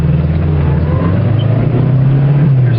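A 1969 Saab 96 engine drones loud and close as the car accelerates, its low hum rising slightly in pitch, with no talking over it.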